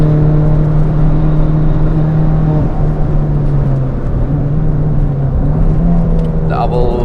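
A budget car held at full throttle on the Nürburgring while running hot and climbing uphill, a loud, steady droning engine note from inside the cabin, holding pitch with slight dips, as a driver talks over it.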